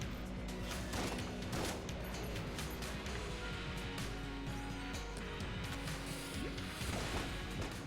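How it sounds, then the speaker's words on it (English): Treasure chests smash apart in the video game Enter the Gungeon, with repeated crunching crashes and cracks among sustained gunfire and busy game effects at a moderate, constant level. "Are we destroying some more chests?"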